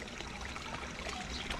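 Pond water bubbles up through gravel from air underneath, a soft continuous trickle and fizz heard close by with no talking.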